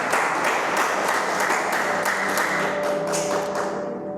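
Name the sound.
applause for the Lord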